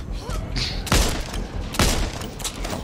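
Hip-fire gunshots in Back 4 Blood co-op gameplay, two loud, sharp booming shots about a second apart over quieter background game noise.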